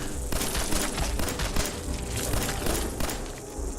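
Rapid automatic gunfire in Fallout 4 rattles on without pause for nearly four seconds, loud and dense, with thudding impacts mixed through the stream of shots.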